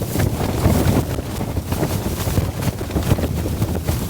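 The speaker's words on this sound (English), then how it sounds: "the wind has been so brutal that it's been flinging condensation around" Strong blizzard wind buffets a winter camping tent with a continuous roaring rush, close and loud, with fabric flapping and gusty surges throughout and no talking.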